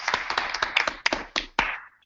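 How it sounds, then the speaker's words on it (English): A small audience at a Toastmasters club officers training applauds trainer DTM Satish Kumar, a short round of crisp, uneven hand claps heard up close that thins out and stops after about two seconds. "We are all giving him a round of applause"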